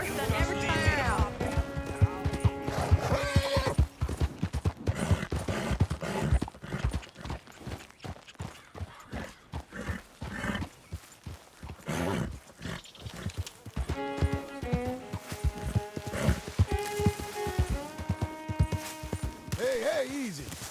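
Horse hooves clopping in Red Dead Redemption 2, with voices talking over the steps and game music in the background.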